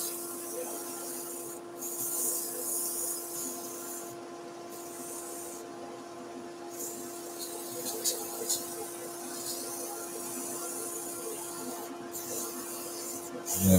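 150-grit sandpaper rubbing a spinning turned wooden basket-weave vase on a lathe, a steady close hiss of abrasive over the machine's constant tonal hum, with irregular brighter scratchy surges as pressure shifts and a brief louder scrape at the end.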